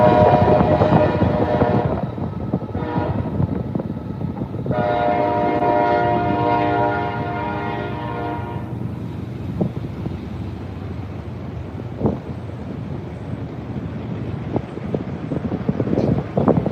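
A CSX freight train rolls past with loud horn blasts early on, followed by the steady rumble and clatter of the passing cars, heard outdoors with some wind buffeting the microphone.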